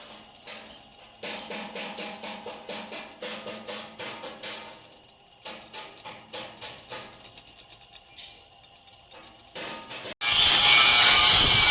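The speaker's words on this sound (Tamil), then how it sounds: "அதுக்காக இப்போ ஹோல்ஸ் போடுறாங்க" Holes are drilled in metal while a broken harvester roller is repaired in a garage, heard as repeated pulsing bursts of a close mechanical whirr that start and stop. A loud broadband roar cuts in at the end.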